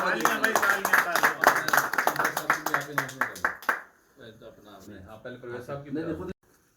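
Audience at a cricket tournament trophy award ceremony clapping in a quick regular rhythm for about four seconds while someone speaks over it, then the clapping stops and talking continues.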